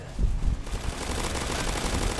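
Rapid bursts of gunfire in the Roblox game Zombie Uprising rattle continuously, dense and loud, with a brief dip in the first half-second before the firing runs steadily on.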